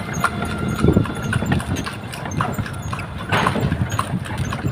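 A horse pulling a kalesa carriage on a street in Cebu clip-clops at a steady trot, close and moderately loud, under a rumbling engine idling nearby.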